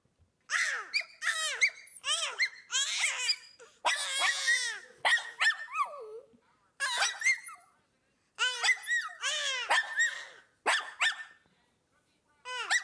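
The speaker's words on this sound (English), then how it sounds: "Just a baby and the dog squeaking." Dog squeaking and whimpering in a rapid series of high, wavering yips and whines with short pauses between bursts, close and clear, with no other sound behind it.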